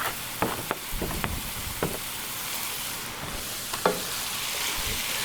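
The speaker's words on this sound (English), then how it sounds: "So We go ahead and add our onions and peppers." Onions and peppers hit a hot pot for deer chili, sizzling steadily up close with intermittent spoon scrapes and knocks against the metal.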